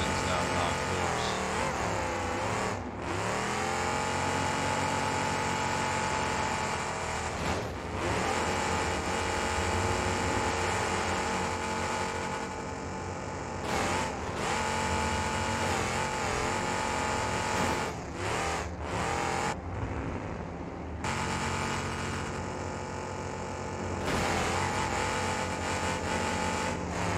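A car engine revs repeatedly during a demolition derby in the BeamNG video game, loud sustained tones rising and falling with brief drops, while a voice talks over it at times.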